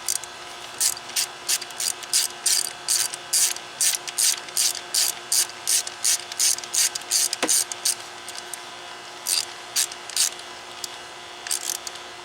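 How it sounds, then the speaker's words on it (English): Ratchet tightening the coil pack bolts on a 2012 Ford Focus 2.0 engine; close, crisp rapid clicking in repeated short bursts of strokes with brief gaps between, one after another for the whole stretch. "we can tighten down all the cool packs."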